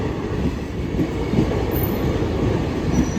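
A train rumbles past close by, a steady loud low roar with rhythmic rattling of wheels over rails throughout.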